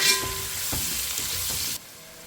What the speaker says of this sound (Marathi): कांदो न्ही 1-2 मिनटां फ्राय करून घेतला